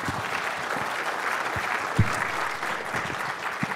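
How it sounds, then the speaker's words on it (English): Applause from a conference audience at ShmooCon welcoming a speaker: dense, steady clapping from a large crowd throughout, fairly close, with a few louder individual claps standing out. "Give him a round of applause."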